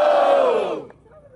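A rap battle audience gives a loud collective shout that swells briefly and then fades away quickly.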